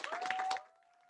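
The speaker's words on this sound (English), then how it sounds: "Let's give her a round of applause." Audience applause for an award winner at a literary awards ceremony, a short burst of scattered clapping that quickly dies away into a steady faint tone.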